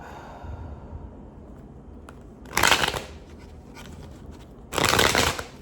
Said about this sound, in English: We are going to shuffle up our cards and say our prayer first.